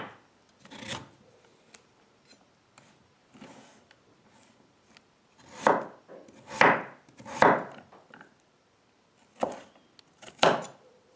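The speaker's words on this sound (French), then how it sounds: "Je vais continuer à tailler ma pomme de terre comme ceci" A knife slices potatoes finely on a cutting board for a vegetable soup: irregular crisp cutting strokes, sparse at first, then a denser run of sharp chops, close and clear with no talking.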